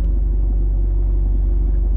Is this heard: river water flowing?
no